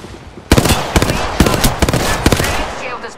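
Loud, close gunfire from the video game Apex Legends sounds as sharp single shots and short bursts, spaced irregularly over a few seconds against a background of game noise.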